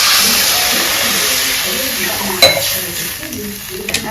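Water poured into a hot pan of fried mashed aubergine and potato in a home Bengali kitchen, giving a steady close sizzle and hiss with a couple of sharp spatters and a clink of utensils.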